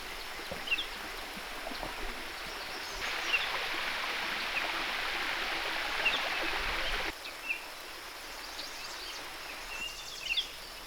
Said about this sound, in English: The stream's still here, but it's at minimal level.